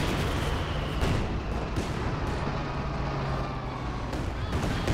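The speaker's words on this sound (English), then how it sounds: "T-34 hitting the Grenadier squad." Dense game-battle din of a T-34 tank firing on a Grenadier squad in Company of Heroes 2: a steady wash of explosions and gunfire with a few sharper booms standing out, constant and loud throughout.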